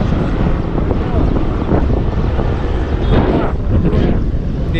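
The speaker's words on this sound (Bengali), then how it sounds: "আরও একটা হেলিকপ্টার দেখো এখান থেকে যাচ্ছে" A helicopter passes overhead as a steady, broad engine and rotor rumble mixed with wind noise, loud and continuous, with a person talking beneath it.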